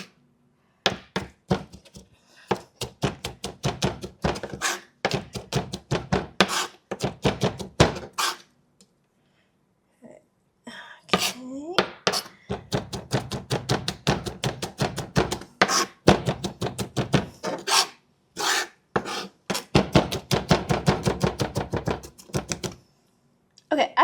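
Garlic minced with a knife on a cutting board, rapid rhythmic chopping in long bursts separated by brief pauses, close and crisp, with occasional talk between bursts.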